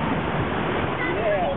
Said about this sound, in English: The waves, Liam.